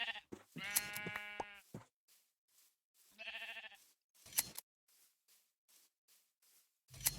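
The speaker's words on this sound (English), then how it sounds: "Look at all these nice sheep." Sheep bleat in a Minecraft world: two clear, nasal, wavering bleats, one early and one midway, with small clicks and soft game sounds between them.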